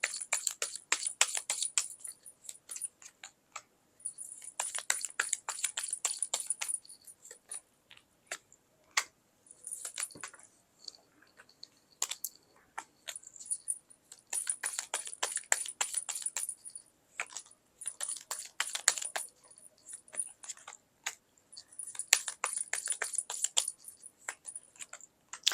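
Tarot cards handled, shuffled and laid out on a table, giving quiet, close bursts of crisp flicking and tapping with short silent gaps between them.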